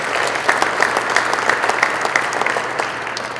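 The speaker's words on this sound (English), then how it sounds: "Let's give a nice round of applause in absentia today to Cassidy Omagroso." A basketball awards banquet audience applauds, a dense, steady wash of clapping from many hands that holds at even strength with no voices over it.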